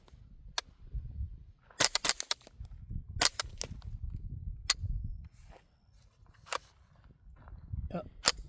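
TriStar KR22 .22LR rifle firing subsonic rounds outdoors, a dozen or so sharp quiet cracks in uneven clusters, some in rapid pairs, with low murmuring and handling noise between shots.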